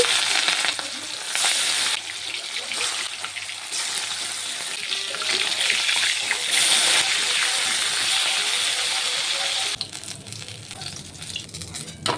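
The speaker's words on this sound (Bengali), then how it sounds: "তেলটি গরম হয়ে গেছে আমি কাতলা মাছটি ভেজে নেব" Catla fish, pre-coated with salt and turmeric, sizzles loudly in hot oil, a steady crackling hiss that holds throughout and softens slightly near the end.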